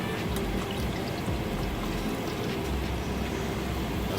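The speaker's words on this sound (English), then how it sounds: "Pour the water." Water pours steadily into the tank of a Bissell ProHeat spot cleaner, a continuous close splashing gush with no pauses.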